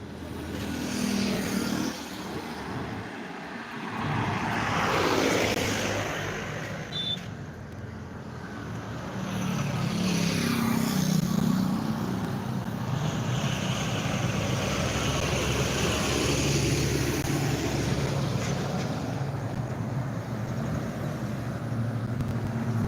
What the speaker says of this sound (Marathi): वाहनाची लगबग जी आहे ती वाढलेली आहे